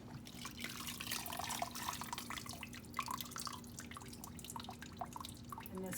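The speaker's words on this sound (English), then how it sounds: "So I pour about half or so of the broth in here and I strain it." Homemade chicken bone broth pours from a pot through a strainer, a steady trickling and dripping of liquid with small splashes, moderately close and fairly quiet, with a faint hum beneath.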